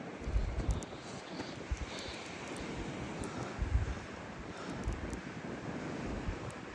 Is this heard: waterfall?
yes